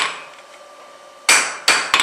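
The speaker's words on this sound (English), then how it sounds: "so I'm only working with the hammer" A hammer strikes hot steel on an anvil while forging a square corner, three loud ringing blows spaced unevenly, close and clear after a quieter stretch with no talk.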